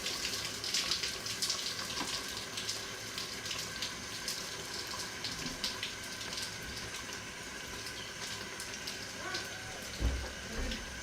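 Water runs and splashes steadily into a vegetable soup pot, a continuous hissing pour with light gurgling throughout.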